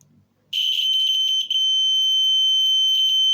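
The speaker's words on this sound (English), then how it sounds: "And last but not least, buzzer." A small buzzer driven by a thermoelectric generator kit switches on after a brief quiet moment and holds a loud, steady, high-pitched electronic tone with bright overtones, sounding alone to the end.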